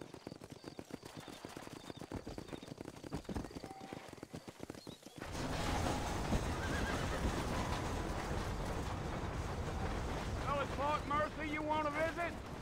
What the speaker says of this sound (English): You ain't gonna find sturdier horses than these in all